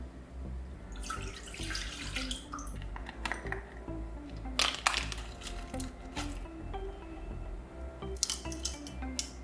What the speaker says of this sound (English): I'm gonna add it to the saucepan and add in 10 to 15 whole cardamom pods